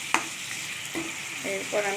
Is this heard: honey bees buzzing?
no